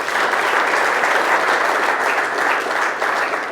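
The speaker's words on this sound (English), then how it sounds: "So a round of applause." Audience applause at a business awards event honoring the winner of Professional Service Business of the Year, a dense, steady wash of many hands clapping, loud and sustained throughout.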